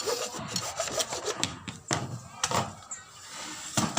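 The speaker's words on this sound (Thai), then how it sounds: "นี่ครับการจับเลื่อย" Rhythmic rasping strokes of a hand saw cutting through wood, close by, with a quick back-and-forth pace.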